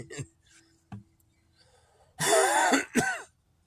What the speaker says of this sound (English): Sorry, I gotta clear my throat.